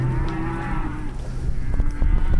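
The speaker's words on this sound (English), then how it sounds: "And as you can see, there's quite a lot of mooing." Cattle moo loudly and close, several overlapping calls as calves search for their mothers among the herd, with no talking.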